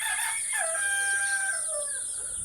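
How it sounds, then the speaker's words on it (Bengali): Fancy-breed chickens at a poultry farm, a rooster crowing loudly and close with long drawn calls over a steady background hiss, no voices. "এই যে দেখেন এখানে আমাদের বাচ্চা, শৌখিন মুরগির বাচ্চা ইনশাল্লাহ।"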